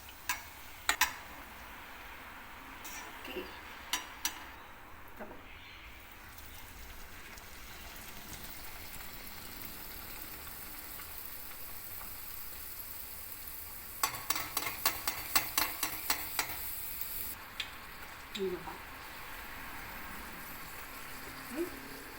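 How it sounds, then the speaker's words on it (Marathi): Puris deep-fry in hot oil for traditional Marathi puri bhaji, a faint continuous hissing sizzle dotted with scattered clinks and a quick run of tapping knocks in the middle. "मस्तपैकी पुरी तळून घ्यायची"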